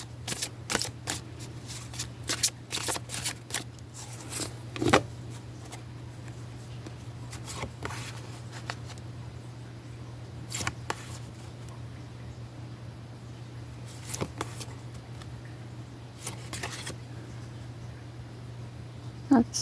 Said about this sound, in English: Now that it is smaller, I can hand over hand shuffle it.